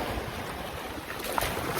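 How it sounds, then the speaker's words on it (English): Ocean waves wash in a steady, broad rush with wind noise buffeting the microphone, continuous and moderately loud from start to finish. "the sound of nature, the sound of the waves, the current flowing, the energy that is beneath it, the undercurrent"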